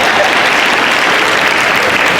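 Loud, dense applause from an audience at a Winston-Salem State University strategic plan presentation fills the whole moment, many hands clapping at once.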